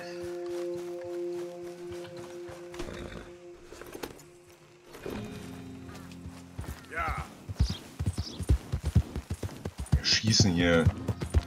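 Rhythmic clip-clop of horse hooves walking in the video game Red Dead Redemption 2, steady and fairly close, with a voice talking briefly over it.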